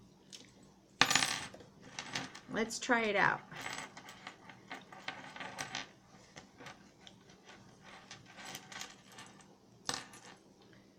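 A bunch of keys on a lanyard keychain jingles and clinks in several short metallic bursts between quieter gaps, with a brief spoken phrase near the start.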